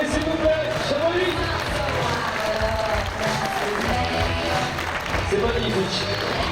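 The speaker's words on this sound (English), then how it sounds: "encore plus d'applaudissements pour Silvia Parente, s'il vous plaît" Sustained loud audience applause and crowd noise for a paraclimbing finalist at the European Climbing Championship finals in Chamonix, dense and steady throughout, with voices mixed into the clapping.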